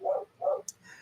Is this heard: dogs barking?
yes